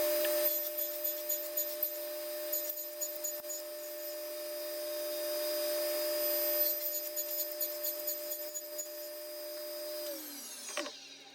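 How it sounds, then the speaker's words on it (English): A power tool runs steadily for about ten seconds, cutting half laps into the wooden pieces of a queen bed frame, then winds down near the end, alone with no talk. "So now I need to cut the half laps on the actual pieces."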